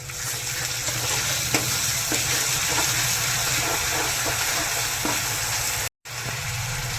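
Crushed onion sizzling in a pan for pav bhaji: a loud, dense, continuous frying hiss with occasional stirring knocks, broken by a brief cut near the end before the sizzle resumes.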